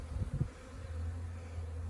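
Honey bees buzzing in a full beehive, a steady low droning hum up close with a couple of brief louder thumps near the start.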